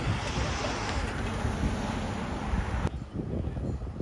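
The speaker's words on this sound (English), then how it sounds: "Sorry for the wind. It's pretty windy." Strong wind buffets a microphone outdoors at a car show, a loud rumbling roar that drops off abruptly near the end.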